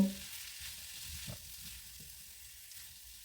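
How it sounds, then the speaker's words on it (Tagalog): Red bell pepper sautés in a pot for an oriental tofu dish, a soft steady sizzle with faint stirring scrapes, heard close and without talk. "ilagay naman ang red bell pepper at igisa ng 1 minuto"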